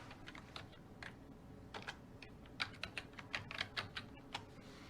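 Computer keyboard typing into a search box, in short irregular bursts of light clicks at moderate volume over a faint room hum, with no voices.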